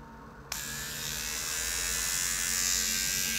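A handheld electric eyebrow trimmer switches on after about half a second and buzzes steadily and closely, a continuous razor-like drone that holds level until the end with no voices.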